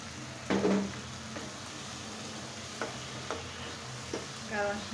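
Mustard is added to greens frying in oil, giving a quiet sizzle broken by a few clinks and scrapes of stirring in the pan.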